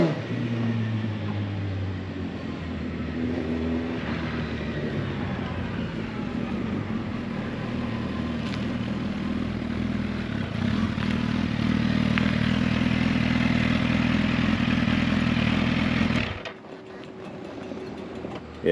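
A 2014 Suzuki Hayabusa motorcycle with a freshly flashed ECU and new oil revs and accelerates hard, its engine note climbing through gears loud and close, then cutting off abruptly near the end.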